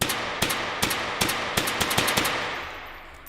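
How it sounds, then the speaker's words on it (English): Gunfire in the VR shooting game H3VR: a rapid series of about ten sharp, loud shots at a fairly steady rhythm, each cracking out alone with short echoing tails. "I'm shooting this guy, he's bouncing off all over."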